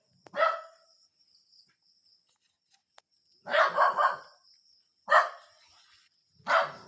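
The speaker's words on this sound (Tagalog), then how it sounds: "tinatahulan nga po pala tayo ng aso" Dog barking in several separate bursts, each a cluster of loud, fairly close barks with quiet pauses between, heard outdoors on a walk with no talking.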